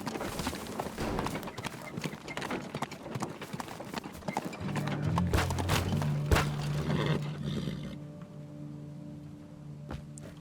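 Horse hooves clip-clop in the video game Teardown, a run of quick, close hoof strikes over loose ground that ease off toward the end, with a low music tone entering midway.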